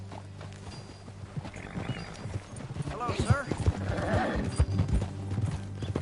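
Horse hooves clip-clop steadily at a walk in the video game Red Dead Redemption 2, with a whinny partway through and someone speaking briefly over the sounds.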